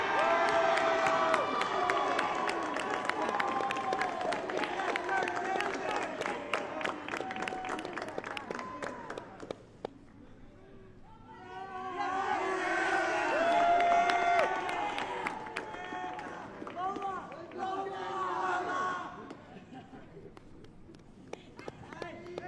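A crowd at a youth soccer award ceremony for the U15 academy final applauds and cheers for individual award winners, a sustained wash of clapping that drops briefly then swells again before fading.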